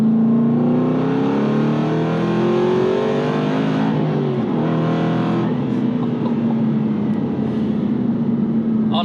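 A modified Aston Martin Vantage V8 CTR with its exhaust valves open accelerates hard close by, the loud V8 note climbing through the revs, dipping briefly at a shift and then pulling on.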